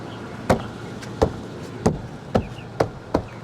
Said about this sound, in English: With the palm of your hands, snap the door panel into the door.